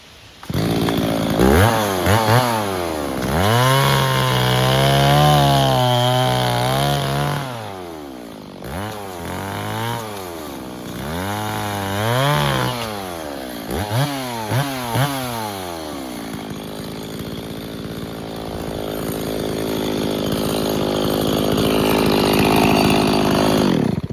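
A chainsaw roars in several bursts, revving up and bogging down as it bites through wood, then idles and fades before ramping up again.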